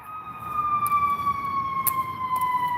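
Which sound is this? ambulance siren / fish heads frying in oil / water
ambulance siren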